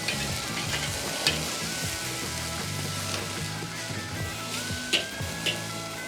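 Steak sears on a grill over direct high heat, a continuous close crackling sizzle with a few sharp pops, no talking.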